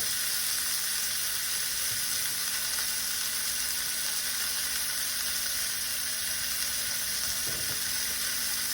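Steak with a fat cap laid into hot oil in a pan, marinated in mushroom ketchup, giving a loud, steady close sizzle that holds throughout with no talk.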